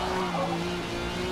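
A V12-engined car fitted with a new exhaust in the Forza Motorsport racing game gives a steady, loud engine drone that holds an even pitch throughout, with no voices over it.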